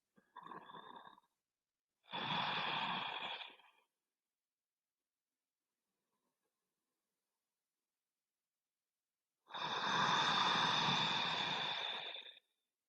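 Slow, deep breaths during a seated forward-fold yoga stretch: a short inhale, then a longer breath, a long quiet gap and a final drawn-out exhale, fairly close and soft.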